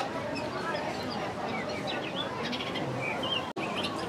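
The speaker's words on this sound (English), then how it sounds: "I got another one of the little birds in here." A small bird chirps inside an aviary at Rosamond Gifford Zoo in Syracuse, New York, giving short, bright tweets in scattered bursts over a busy background hum.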